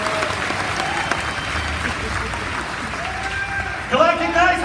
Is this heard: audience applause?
yes